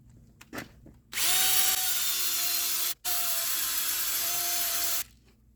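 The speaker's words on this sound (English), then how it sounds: "we got a little rotary sanding grinding tool that I can put on my drill here" A power drill spins a rotary sanding attachment in two long whining bursts with a brief break between, loud and close, grinding steadily.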